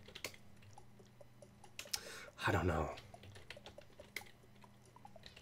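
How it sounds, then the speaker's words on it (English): Rapid clicking of computer keyboard keys as someone types variations of a Japanese word, scattered taps throughout with a brief voice speaking in the middle. "I'm just typing in different variations of funakko."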